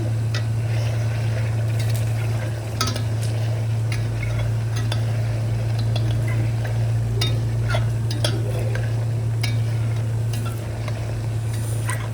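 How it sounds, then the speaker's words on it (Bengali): Onions and garam masala frying in a pan, a continuous close sizzle and bubbling with frequent light clicks and scrapes of a spoon stirring, over a constant low hum. "আমি পেঁয়াজ আর গরম মশলা দিয়ে সেগুলো একটু ভেজে নিচ্ছি।"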